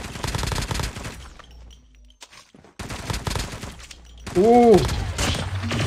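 Bursts of BK-57 rifle fire in an online shooter game, rapid cracking shots under a player's talk and exclamations, with a loud passage near the end.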